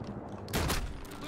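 A shotgun firing in the Call of Duty: Modern Warfare campaign, a single loud, close burst roughly midway through, following a short stretch of quieter game noise.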